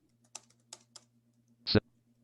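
Several separate keystrokes are typed on a computer keyboard, a few spaced clicks followed by a louder, heavier key press near the end, close and alone over a faint steady hum.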